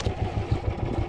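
Fishing boat engine running at sea with a rapid, even thumping pulse, close and fairly loud with no talk.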